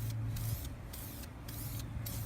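An aerosol can sprays paint onto a lawn vacuum with a cardboard box held over the grass, four short hissing bursts at close range with no talking.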